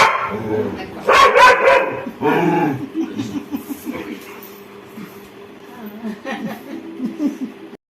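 A Labrador Retriever barks in several loud bursts close by, with people talking and chuckling around and between the barks.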